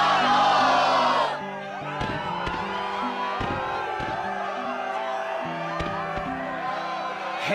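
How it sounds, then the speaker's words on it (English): A game crowd in Kingdom Hearts 2 lets out a short, loud burst of cheering at the start, which cuts off abruptly and leaves steady background music with occasional thumps. "Yes, the crowd is fired up"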